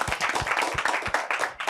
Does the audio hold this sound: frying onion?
no